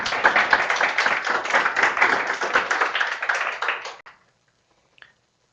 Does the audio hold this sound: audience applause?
yes